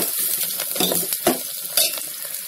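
Onions and green chillies sizzle in hot oil for vegetable kurma, with brisk spatula stirs and a couple of sharper scraping bursts over the constant frying hiss.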